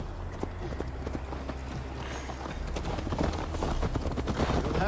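Horse hooves clip-clop at a steady gallop in Assassin's Creed Valhalla as Eivor rides toward Tamworth, close and continuous, with the pace and loudness picking up toward the end.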